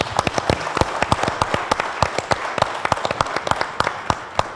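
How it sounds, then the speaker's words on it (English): Applause from a small audience at a teacher workshop, with distinct, closely spaced individual claps in an irregular patter, fairly near and lively throughout. "a round of applause for you."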